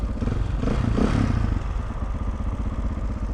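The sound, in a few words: motorcycle engine revving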